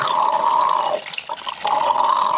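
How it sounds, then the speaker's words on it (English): Coolant draining from a 2005 Yamaha R1 motorcycle makes a steady, close trickling stream of liquid that briefly thins and breaks up midway before resuming its continuous flow. "So, draining the coolant out."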